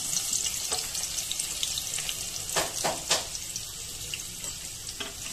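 Onion and bay leaf sizzling in hot oil in a pan, a steady hiss with a few brief stirring scrapes, close and fairly quiet.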